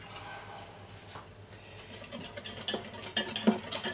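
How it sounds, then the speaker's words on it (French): Whisk or spoon stirring homemade mayonnaise with fresh lemon juice in a bowl, giving scraping strokes and light clinks of metal on the bowl that grow louder and busier over the last couple of seconds, close up. "Donc là, on va bien tout mélanger."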